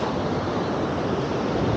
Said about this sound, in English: up that way, the waves are bigger.